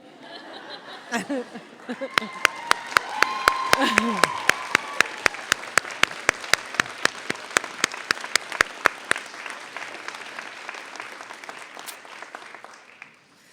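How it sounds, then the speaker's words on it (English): An audience gives veterinary graduates a standing ovation at a white coat ceremony, with a swelling wash of applause, a few loud close claps and some laughter, gradually thinning out toward the end. "Graduates, I think they need a standing ovation"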